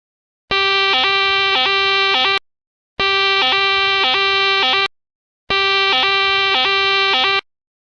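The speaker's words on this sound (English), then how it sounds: "I pulled the fire alarm." A pulled fire alarm sounds three loud, evenly spaced electronic horn blasts, each about two seconds long with a steady pulsing tone, separated by short silences, close and with no talk.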